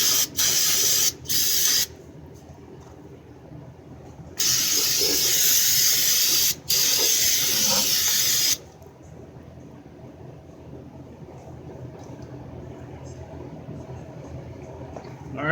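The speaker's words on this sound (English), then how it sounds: "Hit it with some brake cleaner" Brake cleaner sprayed onto an engine part of a Chevy Uplander 3.9, in several loud, close hissing bursts: two short blips, then two long sustained sprays, with a low steady hum underneath.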